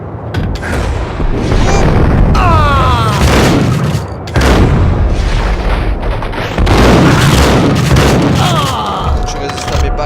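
Gunfire in the Max Payne video game: loud, heavy booming shots and rattling bursts that run nearly continuously, with short metallic ringing streaks between blasts.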